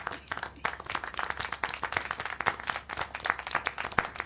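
Clapping in the video game Syberia: The World Before, a steady run of sharp hand claps repeated throughout, fairly close and moderately loud, with faint ambient sound beneath.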